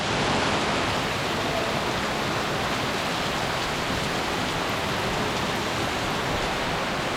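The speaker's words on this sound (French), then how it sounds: "là il y a vraiment une grosse averse et le ciel est bien noir" A heavy rain downpour pours steadily at a temple in Thailand, forming a dense, unbroken roar with no voices and no letup.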